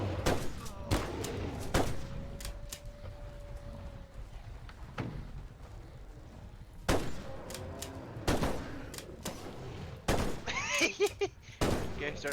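Gunfire in a bigfoot-hunting video game rings out as sharp, separate shots spaced across the stretch, some in quick pairs, with a brief whine and faint game sounds between them.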